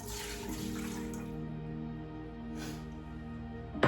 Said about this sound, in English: So I'm gonna pour it into my mixer over here.